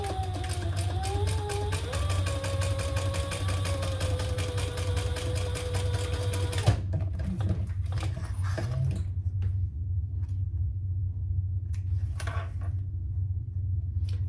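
A sewing machine stitches across a cork wallet with a steady mechanical whir for about seven seconds, then stops, leaving only faint handling noise.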